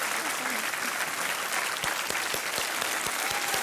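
A studio audience on a television quiz show claps loudly and continuously, with a voice briefly audible beneath the dense applause.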